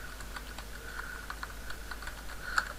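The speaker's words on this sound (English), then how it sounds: "I'll type here and add event listener" Light, steady tapping of keys on a computer keyboard, a series of soft clicks at an uneven pace with one sharper keystroke near the end.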